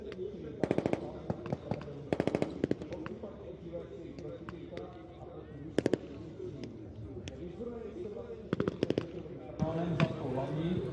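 Machine gun fire rings out at a NATO Days military demonstration in short distant bursts of rapid shots, spread across the scene beneath a continuous commentator's voice and crowd ambience.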